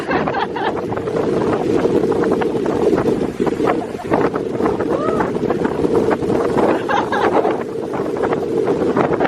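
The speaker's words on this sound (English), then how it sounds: "Just wait for the wind to pass." Outdoor wind buffets the microphone on a terrace, a loud continuous rumble with gusty swells that covers everything for the whole stretch.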